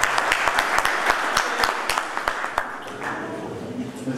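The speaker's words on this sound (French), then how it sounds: "On l'applaudit très fort." An audience at a public event applauds in a burst of distinct, fairly close claps that thin out after about two and a half seconds into a softer murmur with a faint voice.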